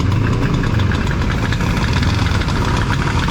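A small 49cc engine, likened to a grass cutter, idles with a constant rough, rattling drone that is loud and close, with no voices.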